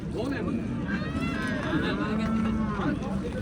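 Cattle lowing in drawn-out, overlapping moos over a constant busy background murmur at a livestock market in Karshi, Kashkadarya, several animals close by in a crowded pen.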